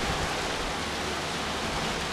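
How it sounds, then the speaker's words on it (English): Driving rain mixed with a little hail beats on a vehicle roof, a continuous dense hiss and patter, steady and close with no talk. "It's a driving rain, so very happy."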